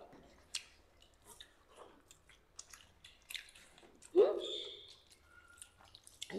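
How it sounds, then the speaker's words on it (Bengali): Someone chews a chili while eating panta bhat, with soft wet squishes and bites close to the microphone, intermittent and set against speech. "লঙ্কা কামড়ে খাচ্ছ।"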